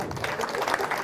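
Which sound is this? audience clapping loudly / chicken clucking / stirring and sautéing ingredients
audience clapping loudly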